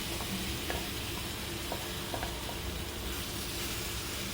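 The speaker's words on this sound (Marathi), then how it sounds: "5 मिनिटं फक्त आपल्याला हे फ्राय करून घ्यायचं आहे, शॅलो फ्राय" Paneer tikka shallow frying in a hot pan, a loud, dense, continuous sizzle and crackle with faint occasional ticks, steady from start to finish.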